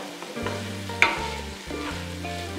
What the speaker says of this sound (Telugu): మంచిగా నూనెలో చక్కగా మగ్గాలి.